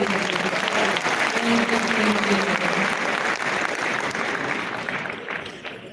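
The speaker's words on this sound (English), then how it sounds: "Another round of applause for them." An audience at a live cultural event claps for young diaspora dancers, a full, sustained round of applause that stays strong before tapering slightly toward the end, with a faint voice briefly under it.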